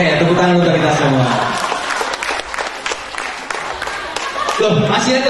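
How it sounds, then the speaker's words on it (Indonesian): Audience applause at an Indonesian speaker event, a steady wash of clapping from a crowd lasting throughout, fairly loud and close, with voices mixed in beneath it. "Oke, tepuk tangan untuk kita semua."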